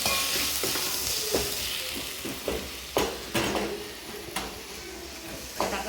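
Tomatoes and small shallots sauté in a pan for an idli egg gravy, giving a steady, close sizzle broken by soft scraping stir strokes at irregular intervals.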